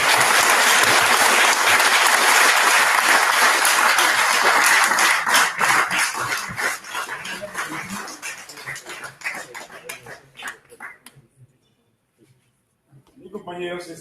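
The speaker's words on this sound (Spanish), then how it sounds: "que se escuche ese aplauso y felices 24 horas" A room of Alcoholics Anonymous members claps loudly and steadily. The applause thins and fades to silence after about ten seconds, and a voice starts up briefly at the very end.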